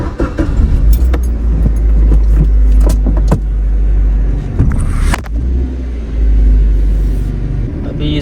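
Interior of a car driving in the morning: a loud, steady low road rumble runs throughout, with scattered clicks and rattles of keys or cabin fittings.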